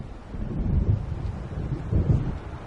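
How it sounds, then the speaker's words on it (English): Distant thunder rumbles low through a stormy night in Alan Wake Remastered, two soft swells over a steady wash of rain and wind, with no voices. "It seems there's a storm coming."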